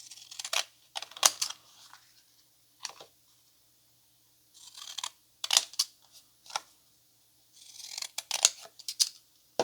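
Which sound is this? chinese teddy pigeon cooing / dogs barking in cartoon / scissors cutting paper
scissors cutting paper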